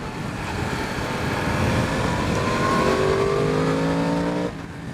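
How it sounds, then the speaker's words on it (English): A 2023 Yamaha MT-10 SP motorcycle ridden in pouring rain, its engine droning at low revs through the gears and climbing steadily in pitch, loud and close, before easing off at the end. "You can lug through gears no problem"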